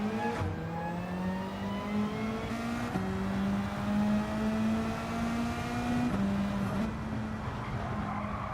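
Car tyres sliding in Gran Turismo 7 on racing hard tyres, a steady engine drone through the gear changes with long, sustained tyre squeal, and no talking.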